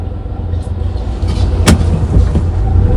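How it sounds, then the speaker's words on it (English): A Smart car engine hums steadily from inside the cabin, a low droning idle with a brief click partway through. "you can hear the engine go"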